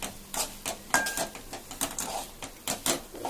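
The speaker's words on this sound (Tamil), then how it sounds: "இப்போ நம்ம இதை போட்டு நல்லா கிண்டிட வேண்டியதான்." Carrot halwa being stirred in ghee in a metal pan, with a spoon scraping and knocking against the pan in a quick, uneven rhythm, close and moderately loud, with no voices.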